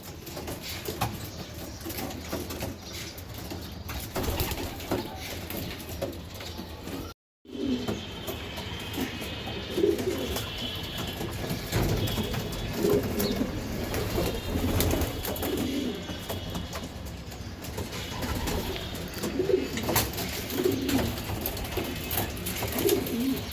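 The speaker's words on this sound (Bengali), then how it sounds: "এই দেখেন কবুতর" Racing pigeons cooing in a loft of mostly young hens, soft repeated low coos under a constant rumbling background, with a brief dropout partway through.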